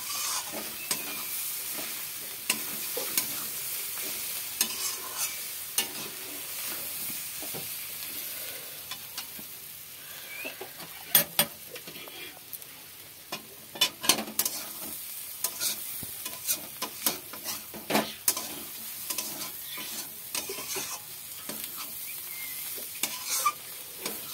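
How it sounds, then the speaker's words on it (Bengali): Leafy greens frying in a pan over lowered heat while being stirred, a soft steady sizzle broken by frequent sharp spatula scrapes and taps close up. "আমার শাক ভাজা হয়ে গিয়েছে"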